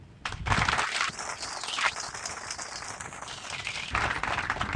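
An audience at a Togolese transport industry event bursts into clapping after a brief pause, a moderately loud, uneven round of applause that holds steady, dips slightly, then swells again near the end.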